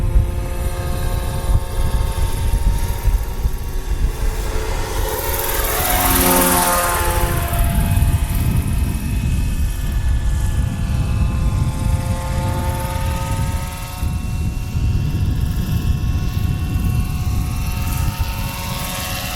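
A Roban MD-500E 800-size RC scale helicopter sweeps past in a downwind low pass, its steady rotor buzz and whine swelling loud as it nears mid-clip, with a Doppler shift, then holding on as a continuous drone, no talk.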